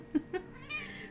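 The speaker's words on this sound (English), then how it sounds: "My cat decided to say hi while I was doing the ending bits." A house cat meows twice in short, close calls, then gives a softer drawn-out vocalization over a faint background hum.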